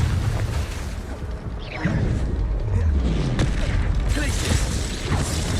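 The Confringo explosion spell in the video game Hogwarts Legacy, whooshing casts followed by muffled booming blasts amid dense, busy combat noise.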